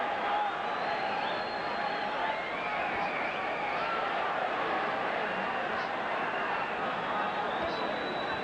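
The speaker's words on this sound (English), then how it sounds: "And that brought the crowd alive." Boxing arena crowd at the Mike McCallum vs Sean Mannion bout roars in a dense, steady wall of cheering for the whole stretch, with an excited commentator talking over it.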